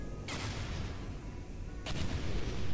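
Two sharp, loud bursts of game gunfire or explosions in Portal 2, about a second and a half apart, over a constant dense rumble of battle noise.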